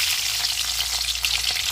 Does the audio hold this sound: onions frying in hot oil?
yes